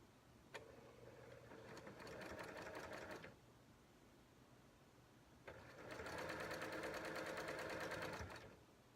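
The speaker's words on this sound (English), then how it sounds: "A couple strips at a time. And I'm just going to sew." A sewing machine stitches quilt strips in two steady bursts of rapid mechanical whirring, each a few seconds long, separated by a short quiet pause; the sound is close and clear.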